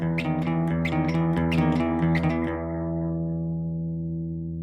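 An electric guitar plays a quick, twangy melody at an up-tempo pace, a short run of plucked notes that ends on a sustained chord ringing out and fading, heard alone.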